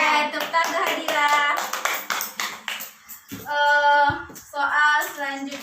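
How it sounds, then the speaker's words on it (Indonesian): Children in a primary school classroom clap for a classmate, bursts of rapid close clapping mixed with loud chanting voices, pausing briefly before resuming. "tepuk tangan Hadira."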